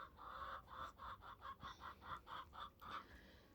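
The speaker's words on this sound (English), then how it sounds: "We have a chicken that gets out. Yeah, it's tweeting." A free-ranging chicken forages under a trailer, giving a steady run of soft, rhythmic clucks at close range, about a dozen evenly spaced notes with no talking over them.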